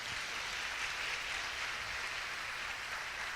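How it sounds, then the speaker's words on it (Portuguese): Steady applause from a crowd, a continuous wash of clapping that holds even throughout, with no voices standing out. "Aplauda Jesus pela vida dessa jovem."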